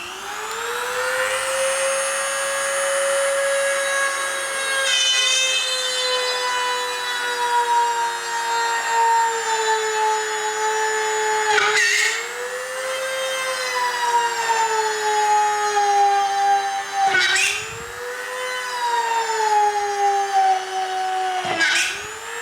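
A YASUKA YDG-135A mini die grinder runs at top speed, drilling through 12 mm plywood with a bit that smokes. It gives a steady, loud, high motor whine, broken by brief dips and pitch shifts as the bit bites the wood.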